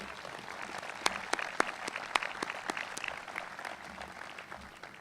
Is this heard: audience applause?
yes